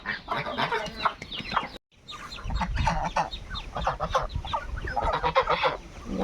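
Chickens on a small farm that also keeps ducks cluck busily while waiting, a steady jumble of overlapping clucks and squawks that pauses briefly and then resumes, fairly close.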